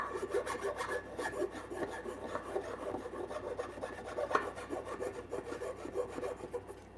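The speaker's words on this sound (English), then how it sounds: "Let me scoot this up a little so I can get my file through this crevice" Hand file rasping across a carved wooden tree branch corner brace, a steady run of close, quiet back-and-forth strokes in a regular rhythm with no talking.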